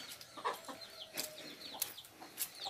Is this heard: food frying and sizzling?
no